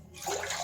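About one and a half cups of water is poured into a pot for black tea, a brief close splashing rush that swells and then holds.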